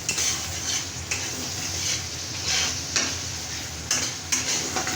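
Whole spices with bay leaf frying in a pan, a continuous close sizzle broken by repeated scraping strokes of a stirring spoon every second or so.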